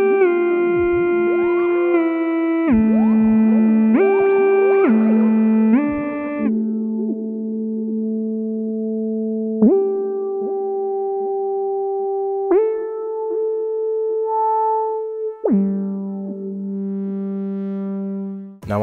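Synthesizer run through reverb and delay pedals in a dawless setup: sustained, harmonically rich notes step between pitches, loud and alone, with tails lingering after each change.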